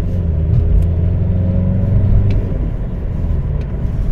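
A Seat Altea with a 2.0 PD TDI diesel engine drives steadily, its low engine drone and road rumble loud and continuous, with a few faint knocks from the cabin.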